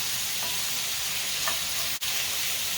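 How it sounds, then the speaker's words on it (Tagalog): Sirloin beef seasoned with garlic powder, cayenne and garlic salt fries in a pan, a loud continuous sizzle with light stirring scrapes and one sharp tap near the end. "Cook the meat a little bit, like 3 minutes, 5 minutes"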